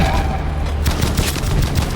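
Dense, rapid gunfire from the World War II shooter game Battlefield V: overlapping bursts of shots crackle loudly and continuously, with no gaps between volleys.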